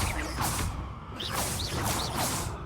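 The Accio summoning spell in the Hogwarts Legacy video game gives repeated whooshing swishes with a faint rising magical shimmer, several pulls in quick succession over a steady low game hum, with no talking.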